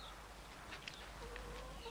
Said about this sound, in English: Take care of them chickens, huh?